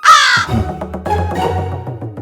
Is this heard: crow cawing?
yes